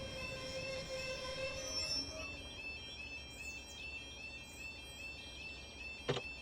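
The Flying Scotsman steam locomotive passes on the Severn Valley Railway in the Train Simulator 2017 game, with a faint wheel squeal and ringing metallic tones that fade out, then a short sharp click near the end.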